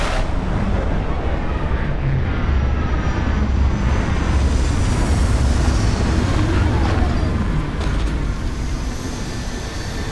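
A spaceship landing in the Starfield video game, a loud continuous roaring engine rumble with whooshing thrust and a few booming thuds, sustained throughout.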